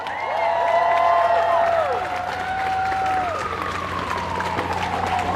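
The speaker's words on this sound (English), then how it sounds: "Let's give them a big round of applause." A rally crowd in Brooklyn applauds volunteers and marshals, a steady wash of clapping with rising whistles and cheers layered on top, sustained and fairly loud throughout.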